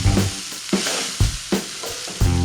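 Cooked rice is stirred together with coconut in a hot pan, a spoon scraping in several distinct strokes over a low, continuous sizzle.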